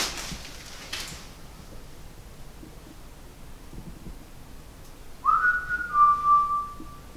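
Inside Perth jail, after a long hushed stretch with only faint rustles, a person lets out a clear whistle: a short rising note that settles into a held tone with a slight wavering tail.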